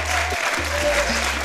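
A television talk-show studio audience applauds in a dense, sustained patter, heard fairly close and loud, with low steady music tones running underneath.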